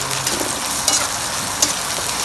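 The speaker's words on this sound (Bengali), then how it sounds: "লবণের পেঁয়াজের মধ্যে একটু লবণ দিয়ে তাড়াতাড়ি পেঁয়াজটা ভাজাবো।" Onions sizzle and hiss in a pan with salt added, a steady bright frying crackle with a few sharper pops and stirring scrapes, close and continuous.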